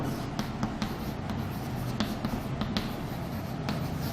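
Chalk or marker strokes on a board during a physics lecture on the magnetic effect of current, a run of short tapping and scratching marks over a steady room hiss, close and without talk.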